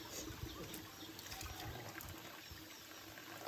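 Spring water from a mountain source in a rural countryside trickling steadily, a faint continuous bubbling flow with low rumbling background noise and no talk.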